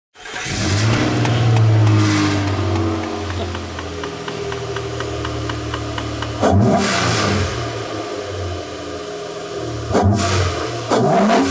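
A 2005 Nissan Xterra with a freshly fitted snorkel and a loud, unmuffled exhaust revs hard up close, then settles into a rough idle, with two more short sharp blips of the throttle near the end.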